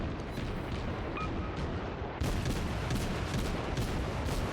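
Cruiser shells firing in World of Warships, a dense rumbling barrage of booming salvos that grows louder and denser halfway through, with no speech.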